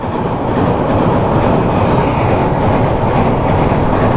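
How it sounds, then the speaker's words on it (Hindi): Rail cars roll steadily past nearby with a continuous loud rumble and rhythmic clickety-clack of wheels over the track joints, no voices, while a vehicle waits to pass under the train on an off-road route near Chota Haridwar. "ये देखो भाई ट्रेन के नज़ारे, और हम इस ट्रेन के नीचे से निकलेंगे।"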